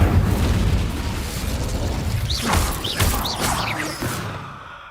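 In the video game Hogwarts Legacy, the Incendio fire spell is cast with a loud, roaring burst of flame. The crackling, rumbling blast fills the clip and is followed by a few short whooshing effects as it dies away.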